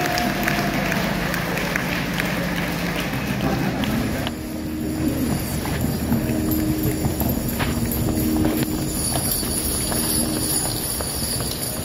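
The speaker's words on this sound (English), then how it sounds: "there is heat number one of the All Breed Eight Horse Hitch" Hooves of an eight-horse draft horse hitch in an all-breed class at a draft horse show, a continuous loud clip-clop of many hooves with crowd and arena noise, steady throughout.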